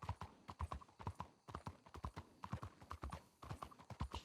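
Horse hooves clip-clop steadily in the Red Dead video game, a quick rhythmic run of crisp hoofbeats at close range and modest volume, with no voices.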